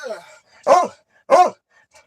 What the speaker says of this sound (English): All I can hear is barking.